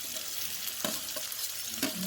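Chopped beetroot with onion frying in a pan, a soft steady sizzle with a few light scraping stirs, close and fairly quiet with no talking.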